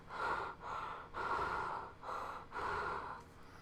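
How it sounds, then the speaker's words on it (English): Heavy, rhythmic breathing of the masked killer from the 2009 Friday the 13th film, five long harsh breaths in a row, close and loud with no talking. "You just see him walking through the forest and all that, just breathing all hard."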